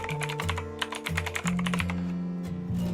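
Computer keyboard keys clatter in a quick, steady run of close clicks while text is typed into AutoCAD, alone with a low hum beneath.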